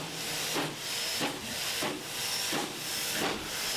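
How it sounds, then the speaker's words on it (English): Rio Grande Southern No. 20, a narrow-gauge steam locomotive in steam on the Cumbres and Toltec line, gives off a loud, steady hiss that swells in rhythmic surges roughly every 0.7 seconds, heard alone. "the 20 was in steam and featured in a lineup of locomotives during this event"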